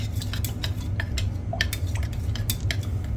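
Peanut butter suspended in solvent being stirred in a container, a rapid run of light clinks and scrapes from the utensil against the vessel over a steady low hum, close and moderately quiet, no talking.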